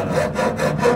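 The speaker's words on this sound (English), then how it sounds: "Right now we're just filing the hole we did." A file rasping back and forth through a drilled hole in metal during steering column installation on a 1937 Nash street rod coupe, loud, close and alone, with about four rhythmic strokes.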